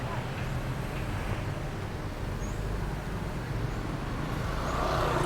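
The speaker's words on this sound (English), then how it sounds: "A lot of traffic today." Steady street traffic rumbles continuously in the Philippines, a dense wash of car and truck engine noise with no distinct passes, growing slightly louder toward the end.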